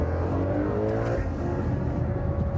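A Ferrari FF takes a hairpin at full throttle in first gear, its engine bellowing loud and close with rising harmonics, pulling hard and steadily without any break in the roar.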